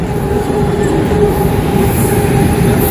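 A passing train rumbles by close on the other track at Samalkot station, its loud, steady roar mixed with faint rattling of the wheels.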